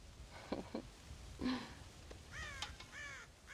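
Crows cawing around a farm silo in the Western video game Red Dead Redemption, a few harsh caws at first, then a quicker burst of overlapping calls near the end, fairly close and clear.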